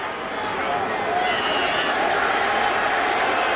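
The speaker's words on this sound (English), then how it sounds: "This crowd's still really unhappy" A football stadium crowd at a Jacksonville Jaguars at Indianapolis Colts NFL game, booing in displeasure as a steady, loud, massed roar that holds throughout.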